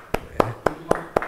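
Clapping from a church Bible study group: five sharp, evenly spaced claps in a quick steady rhythm, close and clear.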